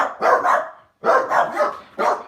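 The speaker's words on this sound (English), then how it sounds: "It's a tiny wee pug." A pug barks in two close bursts, then a short pause and a third burst, each bark loud, near and clear against a quiet background.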